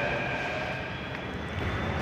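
A Delhi metro train pulls out of Botanical Garden station with a continuous rumbling roar and a faint high whine, heard steadily at moderate level.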